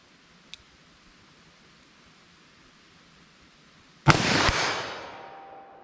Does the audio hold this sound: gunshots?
yes